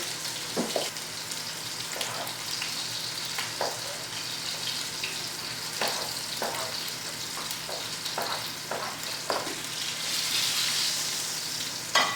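Onions and garlic fry steadily in a pan with a continuous broadband sizzle, broken by soft clicks and taps of stirring throughout.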